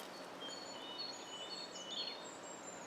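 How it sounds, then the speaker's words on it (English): Many birds sing outdoors at a distance, with overlapping faint chirps and whistled calls scattered over a steady, hissy background. "there's a lot of birds"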